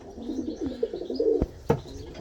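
Racing pigeons, a blue and two reds, coo softly and close by in a loft, a rolling, warbling call broken by a couple of sharp knocks.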